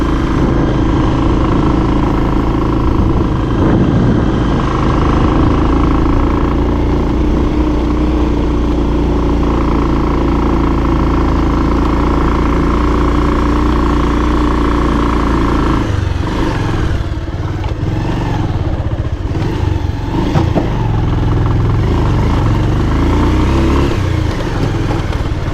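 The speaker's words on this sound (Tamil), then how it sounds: "வண்டி ஏறவே இல்லைங்க" A vehicle engine labours loudly and continuously up a steep mountain road, droning close and strained, with rattling clatter and shifting load toward the end.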